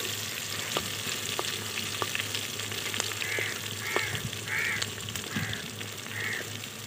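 Onions browning in a pan in a village kitchen, a steady close sizzle of frying with occasional stirring clicks and faint bird calls in the background.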